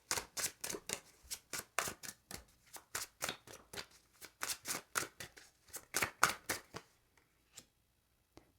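Tarot cards shuffled and dealt in a steady run of crisp, close riffling snaps and flicks, ending in a few sparse single card placements.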